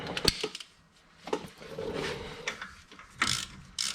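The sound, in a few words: ratchet tightening bottom ball joint bolt with shallow 22mm socket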